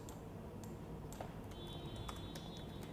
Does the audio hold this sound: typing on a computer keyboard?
yes